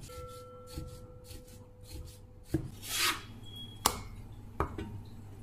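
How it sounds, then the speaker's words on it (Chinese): Knife cutting a piece of pork belly across the grain into thin slices on a board, with several distinct chopping taps and soft scraping strokes at close range, no talk. "顶刀切成薄片"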